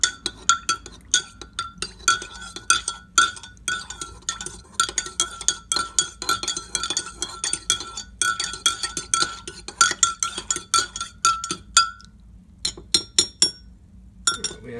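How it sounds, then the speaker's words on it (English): A spoon stirs coffee in a cup, producing rapid bright clinks of metal against the cup's sides in an uneven rhythm, close up, pausing briefly before a final flurry of taps. "If you have a big spoon, you might want to stir it very slow."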